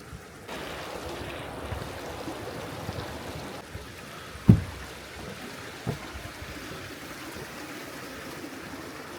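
A mountain river near a stone hut and a small bridge rushes steadily in the background, a constant broadband wash of flowing water with a couple of brief knocks, no voices.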